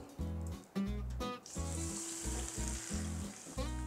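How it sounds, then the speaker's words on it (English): Hot oil is poured over fish topped with spring onions and ginger, setting off a loud, steady sizzle that crackles up close and holds for several seconds, with brief clatters of a pan or ladle at the start. "get this hot oil and pour it on the fish"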